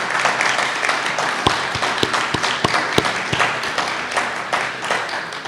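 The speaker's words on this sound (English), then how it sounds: "Let's give a big round of applause for our great ambassadors," Crowd applause for the Burlington Teen Tour Band at an outdoor Canada Netherlands Friendship Day ceremony, a sustained roll of many hands with a few loud, sharp nearby claps standing out over the steady wash.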